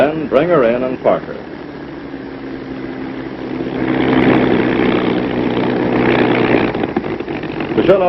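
P-39 Airacobra WWII fighter taxiing in to park: a steady propeller engine drone at idle that rises and throbs in the middle, heard beneath someone narrating at the start and end.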